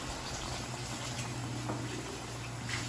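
Eggs sizzle and bubble steadily in melted butter in a hot pan on the stove for a taco omelette, a continuous close frying hiss with no talk.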